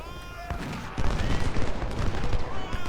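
Cannon and rifle volleys from an American Civil War battle at First Bull Run in Ultimate General: Civil War, a dense rolling crackle of musketry with heavier artillery thumps building after the first second and continuing steadily.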